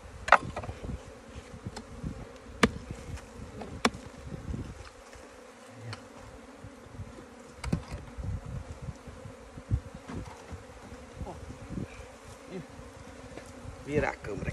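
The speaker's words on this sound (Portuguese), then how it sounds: "As abelhas estão indo pra caixa." Honeybees buzz steadily as they fly into a hive box, a continuous low drone of many insects nearby with scattered soft knocks and brushing sounds.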